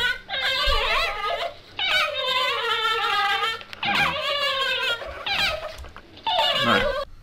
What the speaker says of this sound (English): A different dog.